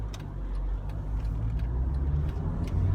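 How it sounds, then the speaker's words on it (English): A car engine idles steadily in first gear while the driver holds it on the clutch with a little throttle, a continuous low rumble at close range with faint ticking above it. "So I'm in first gear, and what I'm doing at the moment is just using a bit of gas and clutch and hovering without the handbrake."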